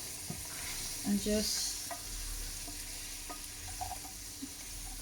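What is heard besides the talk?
chickpeas being stirred into thick sauce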